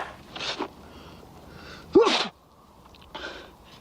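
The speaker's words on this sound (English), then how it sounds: "Makes me sneeze." A single sharp sneeze from a man in a Western setting bursts out near and loud, standing clear above quiet surroundings with faint breathy sounds before and after.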